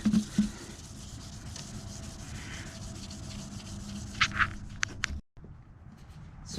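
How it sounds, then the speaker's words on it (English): Steady scratchy rubbing of sandpaper worked back and forth against a 2007 Range Rover headlight lens, close and continuous, ending with a brief pause and quieter rasping. "So I spent about 60 seconds sanding"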